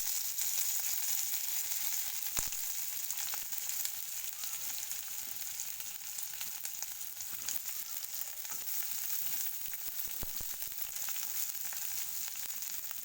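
Chopped onions fry in oil for a fig (dumur) curry, giving a steady, close sizzle that runs unbroken throughout with a few faint clicks of stirring.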